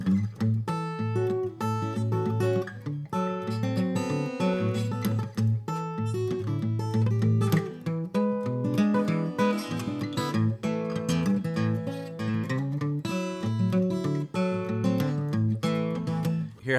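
Guitar played in a well-known guitarist's style, a steady alternating bass line under a picked melody, flowing smoothly and evenly as a clear solo performance.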